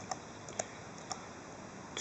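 Keys tapped on a computer keyboard while entering an IP address, a few sparse, faint clicks spaced unevenly over a quiet background hum.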